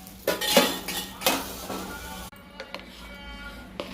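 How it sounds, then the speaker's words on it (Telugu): A metal lid clatters onto a cooking pan on a stove, with a few sharp clanks and scraping clinks close by, followed by a sudden quieter stretch with faint knocks. "మూత పెట్టుకుంటున్నాను."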